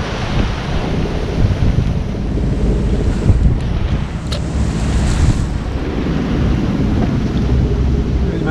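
Big waves break heavily against a harbour quay on the Portuguese coast, a continuous loud roar of surf mixed with strong wind buffeting the microphone, with no talk.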